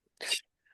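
A single sharp human sneeze bursts out close by, lasting a fraction of a second and followed by near silence, with a faint trailing sound after it.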